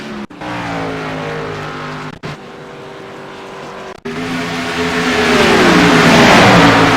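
NASCAR Cup Series stock cars racing at Las Vegas in 2020, their engines roaring loud and close with sustained high revs, passing in several abrupt bursts that swell and fade.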